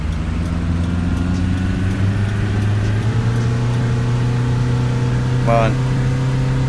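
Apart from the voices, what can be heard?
bus engine revving through gears, Fernbus simulator video game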